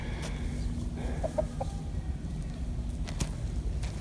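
Backyard chickens cluck in a few short soft bursts over quiet outdoor ambience, fairly distant and low in level, with no talking.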